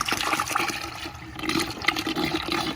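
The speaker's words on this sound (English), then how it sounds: "Then you take your concentrate and you mix it." Coolant concentrate for a 1995 Mercedes-Benz S320 W140 pours into a bucket of water, a steady close splashing gush that lasts throughout with a few brief surges and no talking.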